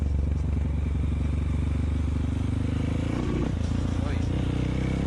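A Kawasaki KLX motorcycle bored up to 274cc runs in third gear, its engine a loud, close, throbbing drone with steady low pulses and some clatter, while a rider's excited voice speaks over it.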